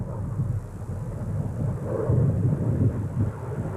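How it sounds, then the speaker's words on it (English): An airplane takes off from a nearby airport, a low, distant rumbling roar that swells and persists throughout with wind noise and no talking. "Here's the airplane taking off from there."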